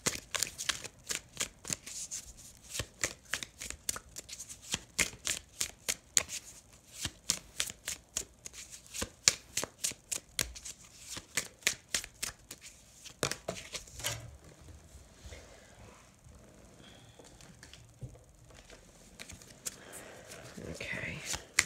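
Playing cards being shuffled by hand in repeated crisp riffling bursts for about fourteen seconds, close and clear, then easing into quieter handling and soft rustling toward the end.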